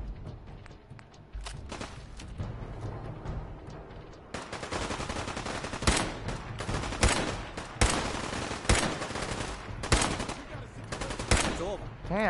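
Gunfire in Fallout 4: a quieter opening shot or two, then from about four seconds sustained bursts and repeated loud shots in an irregular rhythm, close and dominant with no talking.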